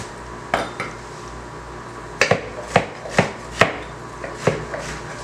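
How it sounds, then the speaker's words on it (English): A knife chops a pepper and other vegetables very small on a board. The chopping comes as irregular sharp knocks, spaced out and close, with a faint steady background hum and no voices. "I'm going to start here with my pepper, and I'm going to cut everything up very small."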